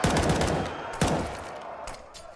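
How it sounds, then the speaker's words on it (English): Gunfire rings out in a professional Counter-Strike match on the Nuke map, in rapid bursts of loud, reverberant shots followed by a distinct crack about a second in. Faint commentary sits beneath. "And the suppressing fire is there."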